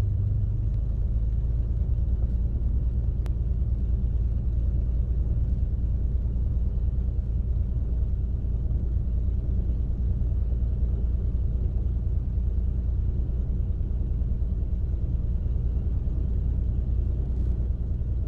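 A small experimental airplane engine rolls for takeoff on a runway, a loud, steady low drone and rumble that holds throughout with no voices.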